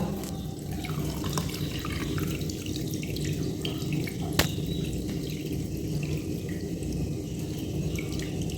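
Water is drained from homemade mozzarella cheese in a kitchen, a continuous running, splashing flow like a tap into a sink with faint drips and one brief knock partway through, with no voices.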